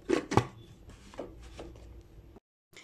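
Sugar and cocoa being beaten together in a bowl for a chocolate spread: a few quick, dry scraping strokes, close and fairly faint, then a short pause.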